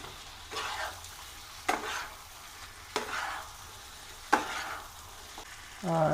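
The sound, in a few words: chicken curry sizzling as fried potatoes are added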